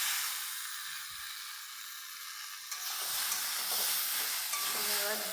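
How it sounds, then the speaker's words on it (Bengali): Potatoes stirred and fried in a pan for a home vegetarian meal, with a steady sizzling hiss and clinking stirring strokes that grow louder and busier partway through, with no one speaking. "আমার আলুগুলো আলু করে ভাজা হয়ে গেছে"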